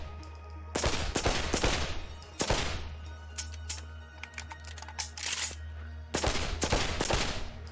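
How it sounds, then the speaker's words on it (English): A rifle fires single shots in the VR shooter Pavlov. Several sharp, loud cracks are spaced a second or more apart, with a short pause between groups and almost no talk. "So yeah, obviously this isn't the SMG. This is a proper rifle."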